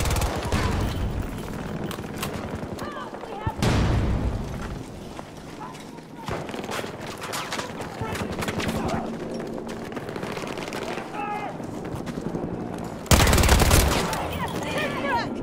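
Gunfire from a Battlefield 2042 Conquest match rattles almost nonstop, with loud bursts and scattered shots layered in dense battle noise and two sharp blasts standing out.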